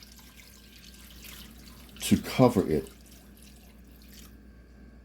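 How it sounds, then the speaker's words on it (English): Water is poured into a crock pot for a spicy corned beef alternative soup, a short splashing gush of about a second set against quiet room tone, with a brief spoken remark nearby. "we're going to pour in enough water"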